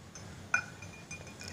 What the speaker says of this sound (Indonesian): Larutkan menggunakan sendok sampai gula terlarut.